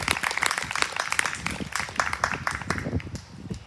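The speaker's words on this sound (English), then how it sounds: "let's have a round of applause for Shannon." An audience at a hybrid song recital and tree lecture applauds a singer, with steady, moderately loud clapping running throughout with no voices over it.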